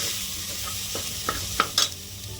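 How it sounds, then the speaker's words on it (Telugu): Tomatoes sizzle in a pan on lowered heat for a raw peanut curry as a spoon stirs them, with a soft hiss under a few clear scraping knocks and clinks, and no one speaks. "దాని తర్వాత టొమాటోస్ వేసేసుకుందాం"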